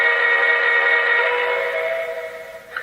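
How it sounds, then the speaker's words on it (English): A loud, sustained model train whistle from a Lionel 0-8-0 NYC switcher set, with a bright multi-tone chord, held steadily for over two seconds before fading, followed by a brief click. "Here's the whistle."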